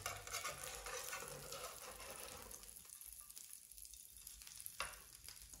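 Burger meat hits a pan with tomatoes and fries in a faint, steady sizzle, with soft stirring and a small clink partway through, close by and without talk.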